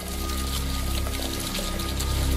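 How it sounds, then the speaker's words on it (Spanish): A tap's stream of water pours steadily, a dense, loud, continuous rushing close by with no break or talk. "en el chorro de agua, se los vaya mojando y se los vaya limpiando"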